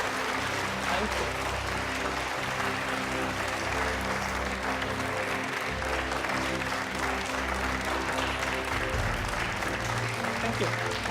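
Sustained, even applause fills a presidential running-mates debate hall, broad and continuous throughout with a low steady hum underneath and no speech over it.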